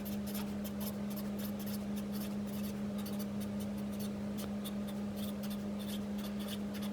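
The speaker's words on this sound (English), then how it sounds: "I usually just write the title at the top with this gold Sharpie." A gold Sharpie writes a book title at the top of a notebook page, giving soft, steady scratchy strokes over a constant electrical hum, close by with no talking.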